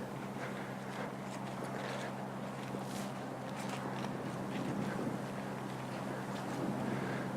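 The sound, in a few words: wind blowing outdoors during a microphone audio test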